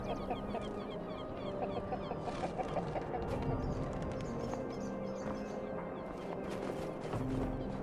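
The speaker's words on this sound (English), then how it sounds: "There's the rooster right there." Rooster and chickens clucking and crowing in the Skyrim video game, a steady layered fowl chatter over background ambience with no speech.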